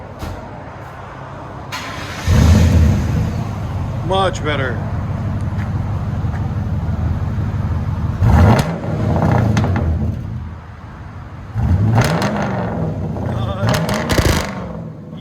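A Mercury Grand Marquis 4.6L V8 with glass-pack exhaust idles with a loud, throbbing rumble inside the cabin, punctuated by three louder revs; someone briefly speaks over it.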